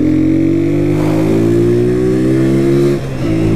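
A Honda CG 125 Fan motorcycle engine revs and pulls away with rising pitch, loud and close, then dips briefly as it shifts gear.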